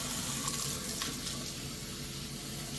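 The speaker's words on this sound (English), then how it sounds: "I like to run it so I feel the cold water come through the backside" Cold water pours steadily from a kitchen tap over rinsed broccoli in a sink, a continuous close hiss and splash that holds level throughout, with no voices.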